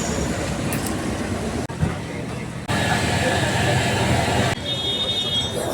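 Trains and traffic outside Dadar railway station in Mumbai, a dense, loud wash of rail rumble, engines and distant horns with crowd and voices mixed in, shifting in level.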